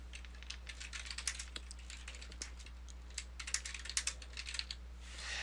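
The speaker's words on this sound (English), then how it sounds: "I'm going to go ahead and type another paragraph in here." Steady typing on a computer keyboard while writing HTML code, with quick clusters of soft key clicks over a low constant hum, no speech, at a moderate close level.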